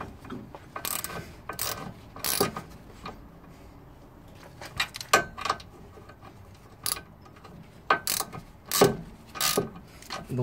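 A ratchet unscrews a hub carrier (steering knuckle) fitting on a Seat car: bursts of close, crisp ratcheting clicks come in short repeated runs, separated by brief pauses with light metallic handling.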